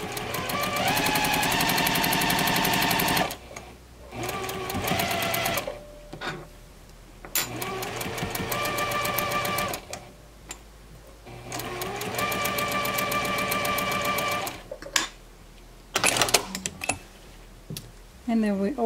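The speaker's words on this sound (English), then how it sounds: "we're gonna sew the same with the presser foot, the edge of the presser foot touching the fabric" A sewing machine stitches quilt fabric for a Cross Roads quilt block, running in loud, steady bursts of rapid needle chatter with short pauses and restarts between seams.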